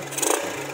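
An old Kawasaki Athlete motorcycle engine revving briefly, a close, loud mid-pitched engine roar that swells and eases over a fraction of a second.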